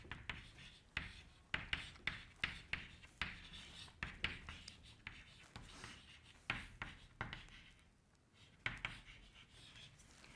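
Pen or chalk writing out notes during a physics lecture on relativity, a soft, close series of rhythmic taps and scratching strokes that continues steadily with brief pauses.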